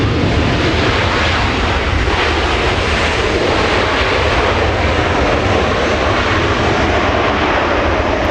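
A fixed-wing airliner arrives at Los Angeles International Airport with a loud, continuous roar of engines close by, steady and broad without a break.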